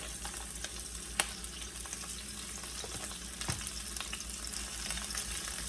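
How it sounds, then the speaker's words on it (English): Garlic and onions sautéing in butter over a very high flame, a continuous close frying crackle with scattered sharp pops and scraping stirs, with no one talking. "just saute the garlic and the onions"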